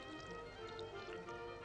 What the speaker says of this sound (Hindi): और अब थोड़ा पानी डाल के